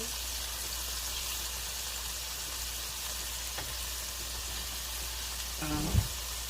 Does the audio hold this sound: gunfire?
no